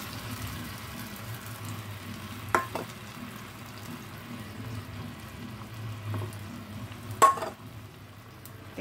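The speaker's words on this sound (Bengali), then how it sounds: "খেজুরের পেস্ট আর তেঁতুলের কাঠ দেওয়া হয়ে গেছে, এবার এটাকে ফুটবে।" Tamarind and date paste simmering in a pan, with a steady low bubbling sizzle and two brief clinks of a spoon stirring, close and moderately loud, with no talk.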